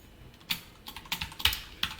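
A few sharp, close keystrokes on a computer keyboard while code is typed. Scattered clicks come in an irregular quick rhythm over two seconds, quiet and alone.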